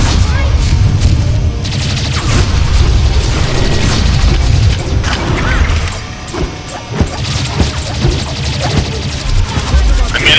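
Gunfire in a corridor in the video game Games of Glory, loud crashing shots and impacts piling up in dense stretches with a short lull midway, under occasional talking.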